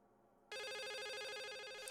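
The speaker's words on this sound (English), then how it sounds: "Can you pick up the phone, please?" A telephone rings in the video game The Suicide of Rachel Foster, starting suddenly after a moment of quiet with a rapid warbling electronic trill that holds steady and clear.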